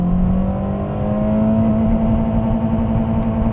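A Toyota Corolla engine revs hard in low gear, a steady loud drone that holds high and climbs slightly in pitch, continuous with no talk.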